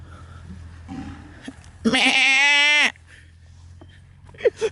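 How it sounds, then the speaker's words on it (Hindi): A hill goat kept in a village gives one loud, drawn-out bleat of about a second, close by against a quiet background, with faint stirring before and after. "आइए आज आपको दिखाता हूँ मैं पहाड़ी बकरियाँ"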